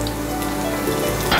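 About one and a half tablespoons of finely chopped garlic dropped into well-heated oil for a fish pepper masala, giving a brief, loud, close-up sizzle that flares slightly at the very end.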